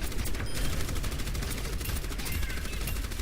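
Orisa's gun fires continuously in the Overwatch video game, a dense, loud stream of rapid shots with no break.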